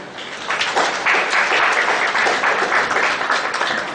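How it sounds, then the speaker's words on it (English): Seminar audience applauding after a tax audit session, a dense burst of many hands clapping that builds in the first half-second and holds steady and fairly loud. "A huge round of applause for your enthusiasm and quest for knowledge."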